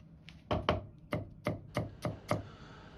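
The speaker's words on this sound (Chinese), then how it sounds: "先切成片，這個不用切得太薄，稍微偏厚一點。" Close, crisp knife chops hit a cutting board as tea tree mushrooms are cut into slices, eight clean strokes in a loose, uneven rhythm with short gaps.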